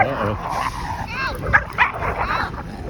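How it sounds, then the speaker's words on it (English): A dog yips and whimpers in high, wavering cries close by, mixed with background voices and some noise throughout. "Look at this dog. This dog is so cool."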